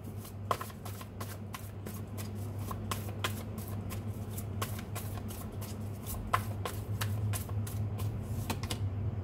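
Tarot cards are shuffled by hand in a rapid series of crisp riffling slaps and flicks, close and fairly loud, repeating steadily throughout with no talking.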